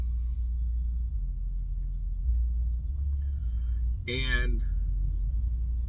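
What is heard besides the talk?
cargo van driving on the road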